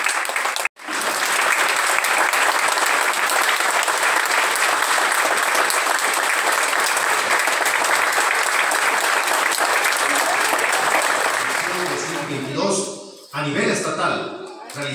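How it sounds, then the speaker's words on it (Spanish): Loud, sustained audience applause at a primary school graduation ceremony in Tuxpan, Guerrero, with dense clapping from a large crowd that begins abruptly, holds steady, then breaks up into a few voices near the end. "Prendemos un gran aplauso a los alumnos que hoy ingresan."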